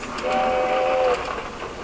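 A toy train runs along its track, giving a steady whistle-like tone for most of a second over a busy background before it stops.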